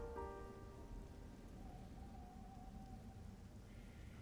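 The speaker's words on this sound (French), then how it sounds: "Ouah, comment ça pleut que d'un côté?" Rain falling in the video game Child of Light, a soft, steady hiss of rainfall at low volume, with faint tonal game sounds briefly above it early on.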